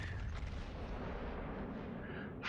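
Main battery volley from a warship in World of Warships, a dense, continuous roar of heavy gunfire and rumbling booms filling the whole moment at steady loudness.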